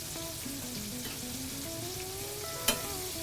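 Blackened shrimp chimichangas fry on their second side after a flip, a continuous close sizzle with a faint tonal whine underneath and one sharp clack of a utensil near the end.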